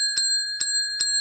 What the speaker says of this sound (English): If you ring that bell again, I will wring your neck